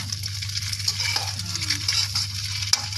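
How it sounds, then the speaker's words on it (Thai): Crab sticks are stir-fried in a pan with a steady, close sizzle and a constant low hum. Soft scraping and stirring noises sit on top, with a small clink near the end. "ต้องผัดไปเรื่อยๆ เพราะปูอัดมันสุดอยู่แล้ว"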